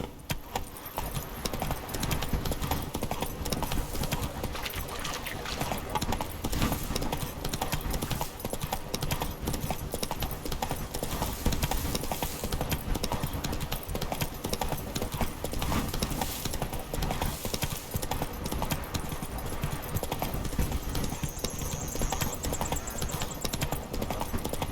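Horse galloping in The Witcher 3: Blood and Wine, a steady, dense run of hoofbeats that carries on without a break, close and loud, with game music and ambience blended underneath.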